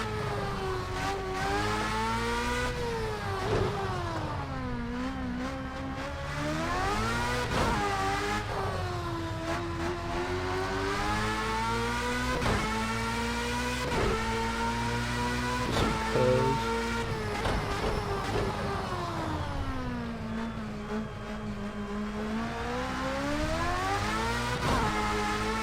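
A Formula race car engine revs up and down again and again as the car accelerates, with rising and falling pitch, heard steadily and loud with no talk through a long stretch, over a hiss like rain.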